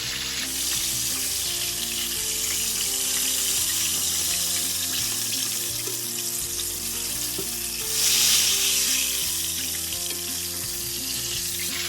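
Buttermilk-breaded chicken fries in hot oil, a dense, steady sizzle that holds evenly for the whole stretch with a brief swell of crackle partway through, close and loud with no talking.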